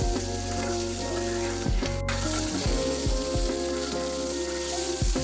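Pieces of katla fish fry in hot oil in a pan, giving a continuous, steady sizzle close by with no talking.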